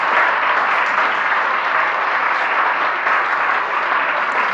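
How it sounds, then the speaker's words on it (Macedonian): Sustained audience applause in a Macedonian TV quiz show studio, a dense, even wash of clapping that stays steady and fairly loud throughout with no talk over it. "Молам еден аплауз пред да го добиеме одлучувачкиот инсерт"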